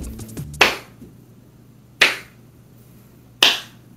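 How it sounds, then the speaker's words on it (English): Three sharp hand claps, evenly spaced about a second and a half apart, each loud and close with a quick decay, over a quiet room hum. "Here's my clap."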